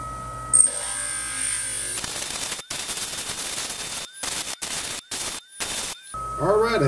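Golden tiger's eye stone pressed against a spinning polishing wheel, a loud buzzing grind broken into several short bursts with brief pauses between, no talking.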